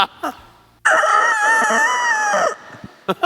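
A hoarse-throated rooster gives one long, hoarse crow up close, preceded and followed by a few short clucks.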